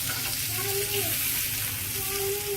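Onions sizzle and fry in a pan as they are turned and shifted, with a continuous close crackle and a few scraping movements, no talking.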